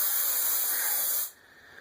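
A can of aerosol spray gives one continuous, close hiss lasting just over a second before cutting off sharply to near quiet.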